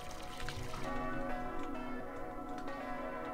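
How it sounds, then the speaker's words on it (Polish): Church bells from a Farming Simulator 19 map ring steadily with sustained overlapping tones, fairly loud against a busy outdoor background. "Kościół. Bijące dzwony."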